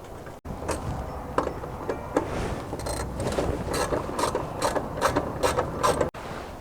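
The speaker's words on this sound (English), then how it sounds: "now it's just a matter of putting the screws back on" Screws are fastened back onto chrome shock tower domes on a Dodge Challenger, with a series of quick ratcheting clicks and metallic turning bursts close by, growing more regular toward the end and broken by brief gaps.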